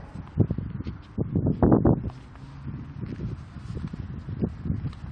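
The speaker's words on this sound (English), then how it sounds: "Got a little bit of a wind." Gusty wind outdoors buffets the microphone at a drone's first flight, low rumbling bursts rising and falling in uneven surges, close and fairly loud, with no talking.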